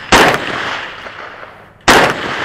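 Two loud, sharp gunshots at a two-gun shooting match, about two seconds apart, each followed by a short echoing decay outdoors, with no voices between them.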